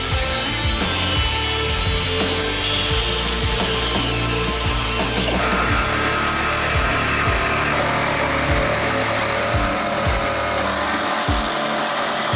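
A power tool cuts back the outer body skin of a Porsche 911 panel, a loud, steady, grinding rasp running continuously and up close with no talking.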